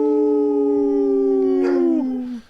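A dog gives one long, loud, close howl that holds a steady pitch, then bends downward and trails off into a short whine at the end, with no one talking.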